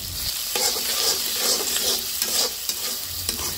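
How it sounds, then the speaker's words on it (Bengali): Onions and chillies being softened in a pan for a village-style pangas fish-head and taro curry, a close, steady sizzle broken by rhythmic scraping strokes of a spoon stirring, with no talking. "পেঁয়াজ মরিচ এখন নেড়ে চেড়ে একটু নরম করে নেব"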